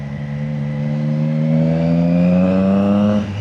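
A car revs hard through a loud exhaust on a quiet night street, a steady rising engine drone with strong harmonics building over a few seconds, then dropping off near the end, with no voices.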